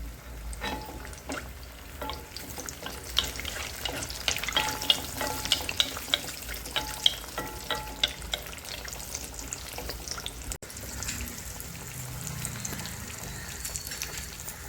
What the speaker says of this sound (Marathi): तळायला टाकलं की त्याच्यावर आपण तेल टाकून घेऊ